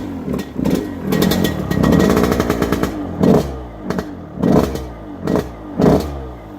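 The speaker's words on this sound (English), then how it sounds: "TM125 exhaust sound." A TM 125 two-stroke motocross motorcycle revs its exhaust loud and close: first a sustained, buzzy high-rev run, then a series of separate, sharp throttle blips with short gaps between them. No talking.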